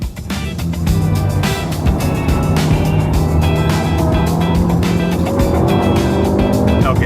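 Loud, continuous engine roar of a roughly 300-horsepower car driving fast through a high-speed section of the Nürburgring, heard from inside on a ride-along, with rising revs and steady road noise throughout.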